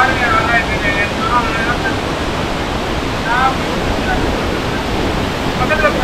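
Steady broadband rush of water pouring down Aagayagangai waterfall in Kollimalai, continuous and fairly loud throughout, with faint birdsong chirps poking through at moments.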